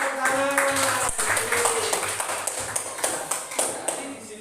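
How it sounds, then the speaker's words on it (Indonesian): A group of young students clap their hands together in a lively, uneven burst of claps lasting a few seconds, with voices mixed in during a classroom lesson. "Oke, tepuk tangan."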